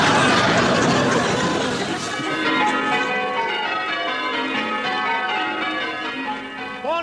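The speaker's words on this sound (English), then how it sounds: "Nice to hear the bells again." Church bells peal in overlapping, ringing tones, with a murmur of people chattering faintly underneath.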